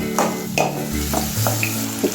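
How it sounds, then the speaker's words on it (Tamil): Chopped onions sautéed in a pan, loud close sizzling with several stirring scrapes at a steady pace, no voices. "வெங்காயத்தை போட்டுட்டு நல்லா வதக்கி விட்டுடுங்க"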